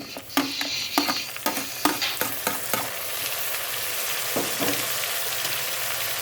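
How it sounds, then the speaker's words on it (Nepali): Tomato goes into a pan of browning onion, cashew and garlic for butter chicken. A few sharp knocks and scrapes come first, then a loud, steady sizzle and fry settles in, close and with no talking. "अब यसमा हामी अघि देखाएको टमाटरलाई एड गर्दैछौँ।"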